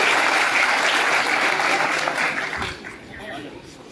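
Dense audience applause at a felicitation ceremony in a Mahendergarh community hall, honouring a young woman who passed the UPSC exam. The clapping is loud and close for over two seconds, then thins and fades.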